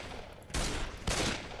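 Two loud, sharp gunshots from the zombie shooter game Left 4 Dead 2 go off about half a second apart, each followed by a short ringing decay.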